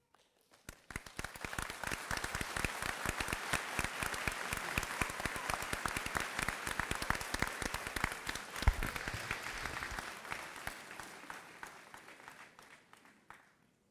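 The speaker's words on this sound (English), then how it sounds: "Another round of applause for our student speaker" An audience at a college commencement ceremony claps for about fourteen seconds, the applause swelling quickly, holding steady, then thinning and fading out, heard from some distance.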